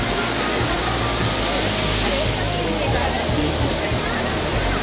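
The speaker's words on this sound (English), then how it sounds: "So this is the second waterfall" A waterfall in Shillong, a loud, dense, continuous roar of falling water filling the whole clip, close by, with a voice faintly under it.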